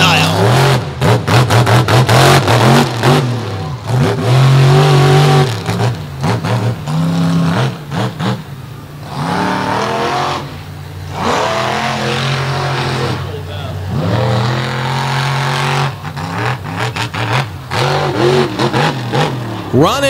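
The Toxic 2.0 monster truck, a big metal shop machine with a 557 cubic inch engine, runs hard around a freestyle track at a beach show, roaring loudly with repeated surging revs while an announcer talks over it.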